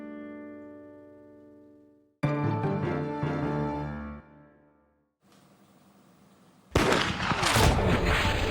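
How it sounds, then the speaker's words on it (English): Gunfire in a historical reenactment of General Brock's death: sustained musical tones give way to a sudden loud burst of shooting near the end, with rough, crackling noise. "A single shot killed General Brock."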